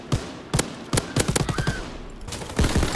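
A light machine gun in Call of Duty WWII fires close and loud in rapid bursts of sharp cracks, with short pauses between volleys and a faint whistling tone partway through.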